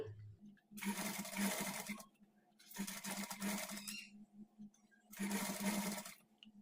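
A sewing machine with a normal presser foot stitches thread piping in three separate runs of fast, steady motor whirring, each about a second and a half long, with brief quiet gaps between them.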